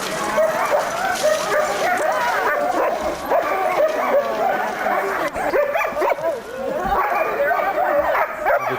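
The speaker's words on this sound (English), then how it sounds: "They are hooking the dogs up to a sled." Sled dogs in Alaska, being hooked up to a wheeled sled, yip, whine and bark continuously and excitedly, several voices overlapping close by.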